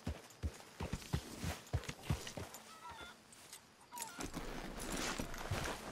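Horse hooves clopping at a walk in Red Dead Redemption II, a steady series of close hoof beats that gives way to a wash of ambient background noise, with no voices.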